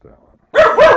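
A dog barks loudly and close in two quick sharp barks after a moment of faint room noise, heard indoors during a home computer session.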